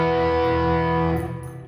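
An open chord strummed once on an electric guitar with all six strings ringing through distortion, a dense sustained buzzing chord that holds loudly before being cut off and fading into a brief tail.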